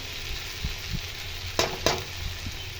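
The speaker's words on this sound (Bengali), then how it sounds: "এরপর ভালো মতন ভাজা ভাজা করবো।" Raw banana bhurji sizzles steadily in a pan with spices like cumin, turmeric and curry powder, with a few soft scraping stirs and two sharper clinks of the spatula against the pan.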